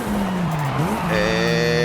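A 2006 Mitsubishi Lancer Evolution 9 brakes hard in a Forza Horizon 5 time attack run. The engine note sinks through a hard downshift, then a sharper rev climbs back up over faint tire noise.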